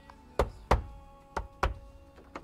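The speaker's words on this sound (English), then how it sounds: "All we need to do now is pop our trims in, tap them into position, get our trim clips, pop those little guys in" Plastic trim clips being tapped into place on a Nissan GU Patrol during a rear-view reverse camera install, five sharp, separate knocks spaced unevenly over two seconds, close and crisp, with quiet in between.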